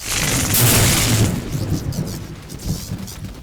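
A lightning attack spell in the Garry's Mod NarutoRP game bursts out as a loud crackling electric blast, then fades into rumbling, fizzing noise over a few seconds.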